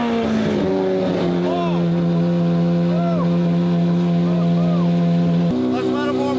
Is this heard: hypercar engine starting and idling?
yes